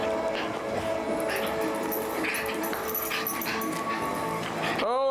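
A dog whimpers and yips close by on a golf course, thin high cries and small whines over continuous outdoor background, ending in an abrupt sweeping sound.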